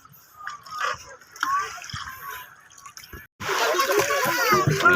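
Water splashes and sloshes inside a holed, sinking fishing boat, with gurgling movement that swells louder in the second half while people talk nearby.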